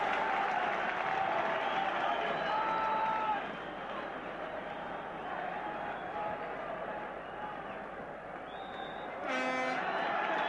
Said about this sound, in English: The Aberdeen supporters cheer their favourites off.